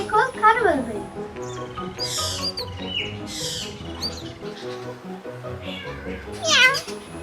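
A black bird mimics a cat, giving several short meow-like calls mixed with chirps and whistles, close and fairly clear, while people talk over and between the calls.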